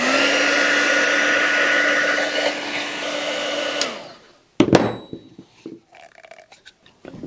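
A 1,000-watt heat gun whines steadily in a workshop during an Isuzu 4BD1T excavator engine rebuild, then cuts off with a falling pitch, followed by clunks and handling noises.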